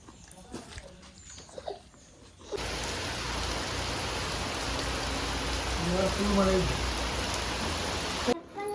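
Steady rain pours down as a dense, even hiss that starts abruptly and holds for several seconds, with a brief voice-like tone partway through and quieter clatter before it.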